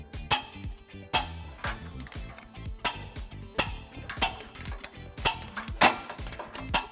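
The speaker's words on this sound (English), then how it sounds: "tighten and torque all of our bolts according to the manufacturer specifications" Ratcheting and clicking of a wrench and 19mm socket on an extension tightening trailer hitch bolts on a 2002 Ford Crown Victoria, close and repeated, with sharp metallic clicks and knocks in an uneven rhythm.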